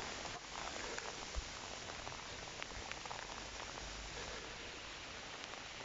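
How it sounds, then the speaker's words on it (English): Steady rain falls on a freshly mowed lawn, a dense, even hiss with scattered droplet taps that carries on throughout without any voices. "the sun just went and the rain just came down"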